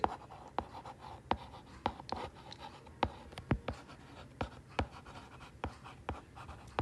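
A pen scratches out handwritten set elements for a math lesson, making quick, faint strokes and taps in an irregular rhythm close by, with no talking.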